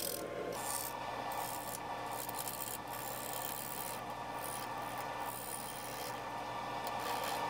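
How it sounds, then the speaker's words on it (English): A large Carter & Son bowl gouge cuts the bottom and curve of a maple bowl on a lathe, making a continuous rasping scrape over a low steady motor hum, with small regular dips in the cut and no speech. "also using a Carter & Son bowl gouge, but this is the larger one I have"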